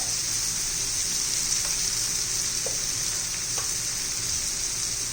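Turmeric, red chili powder and other spices fry in a pan for a leftover bhakri breakfast, giving a steady, even sizzle throughout with no talking.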